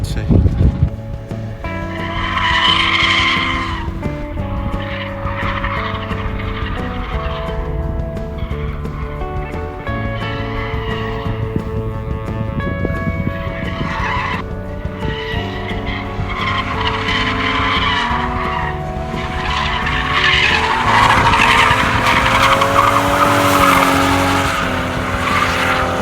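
A Toyota JDM car drifting around a track, its tires skidding and squealing over a strained, revving engine, loud and continuous throughout, with voices mixed in.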